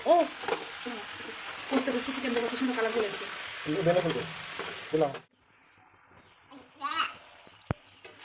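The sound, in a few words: chicken being sautéed for Bengali chicken curry with potatoes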